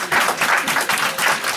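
A church congregation claps in loud, close, pulsing bursts that rise and fall in a rhythmic pattern.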